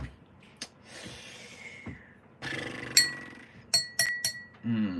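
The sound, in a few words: glass cup clinking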